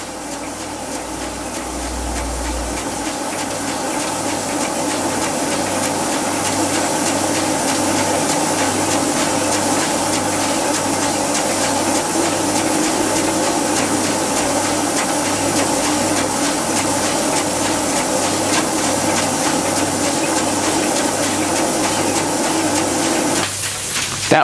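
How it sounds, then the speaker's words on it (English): A large Hero aeolipile model steam engine running slowly under its own steam, giving a continuous, even hiss and rushing sound that holds steady for a long stretch and stops abruptly at the end. "The large Hero engine running on under its own steam, albeit very slowly."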